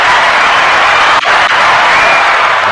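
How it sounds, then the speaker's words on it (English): Studio audience giving a round of applause, a continuous loud wash of clapping and cheers sustained throughout without pause. "So a round of applause for that."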